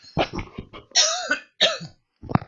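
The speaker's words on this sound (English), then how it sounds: "I coughed straight into the microphone first time then" A man coughs several times straight into a close microphone, harsh loud bursts with short gaps, ending in a final cough after a brief silence.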